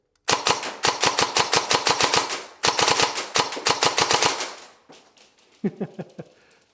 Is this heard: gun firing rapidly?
yes